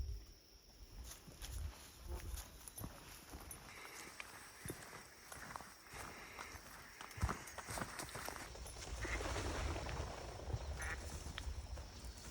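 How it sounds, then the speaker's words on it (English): Ducks quack in the distance as they flush in the Straight River Valley on the Ice Age Trail, amid rustling and thudding footsteps on the trail, fairly faint and continuous. "we scared all the ducks up"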